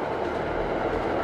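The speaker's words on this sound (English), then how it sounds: "I laugh as the train passes by." A train rolls past with a steady, loud, dense rumble and faint rail clatter, filling the whole moment without letup and without any voices.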